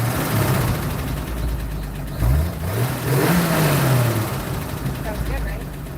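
Inline-six engine in a troubleshooting car revs up from idle in a couple of rising and falling sweeps, then settles back, with a voice talking over it.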